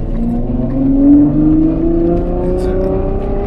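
A Ferrari F12 pulling away, its engine note rising smoothly in pitch as it revs up, a close, fairly loud droning rev that climbs and then settles into a steady run, with no talking.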